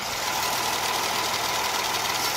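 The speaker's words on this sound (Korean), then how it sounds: "지금 영상에서 들리시는 것 같이 굉장히 정숙하고 규칙적인 엔진 사운드 들려주고 있고요" A Kia K7 car engine idles steadily and evenly with the hood open, a constant smooth, quiet mechanical hum with a fine regular pulse, close up and uninterrupted.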